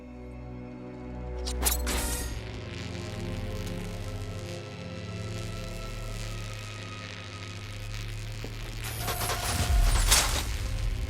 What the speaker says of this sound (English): Counterweights move further when I step on the pads.